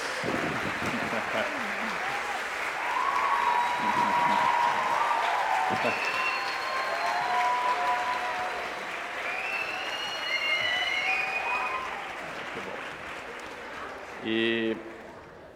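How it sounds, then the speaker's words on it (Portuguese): An audience at a university debate applauds the speakers, a steady wash of clapping across the room with a voice speaking briefly over it near the end. "Palmas para os nossos palestrantes."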